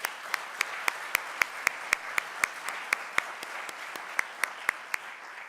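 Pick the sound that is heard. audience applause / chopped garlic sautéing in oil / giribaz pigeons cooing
audience applause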